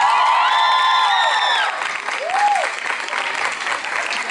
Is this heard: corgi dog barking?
no